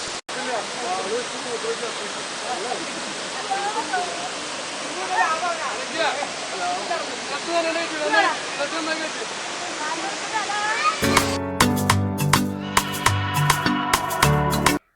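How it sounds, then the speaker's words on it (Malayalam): A small waterfall at Kallar near Ponmudi rushes in a steady broadband roar for most of the stretch, then gives way to a loud burst of rhythmic music near the end. "ചെറിയ വെള്ളച്ചാട്ടം കാണാൻ വേണ്ടി"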